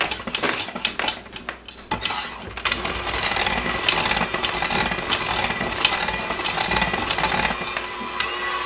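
Brownie batter being mixed in a bowl with a utensil: continuous scraping and clinking of metal against the bowl, steady and close, with no talking.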